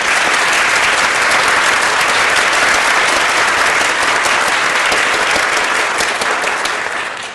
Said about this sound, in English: A round of applause to them.